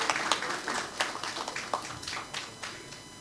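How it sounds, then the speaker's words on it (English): An audience claps at a conference launching Indonesia's National Cooling Action Plan at a media summit. The applause is moderately quiet, with scattered distinct claps that swell and fade in loose waves. "please give a round of applause for the launching of the National Cooling Action Plan"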